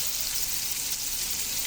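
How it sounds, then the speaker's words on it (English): Rubbed pork tenderloin sears in a hot pan, a steady close hiss and crackle of frying with no breaks and no talking. "We're gonna allow our pork tenderloin to sear on both sides for 5 minutes."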